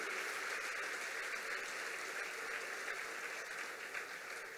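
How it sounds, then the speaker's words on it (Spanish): A church congress audience applauds its work team with a steady, dense wash of clapping that holds at an even level throughout, heard from a distance and fairly faint. "un aplauso para todo el equipo de trabajo que ha hecho esto posible"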